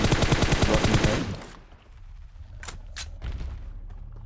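Gunfire in PUBG Mobile opens with a rapid, loud automatic burst that stops after about a second. A few sharper, isolated shots follow over a low background hum.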